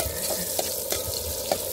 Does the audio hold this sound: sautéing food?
yes